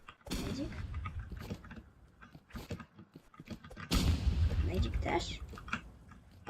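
Gunfire in the online shooter Roblox Rivals, with sharp broadband bursts, one strong blast about two-thirds through, over a busy mix of game noise, clicks and people talking.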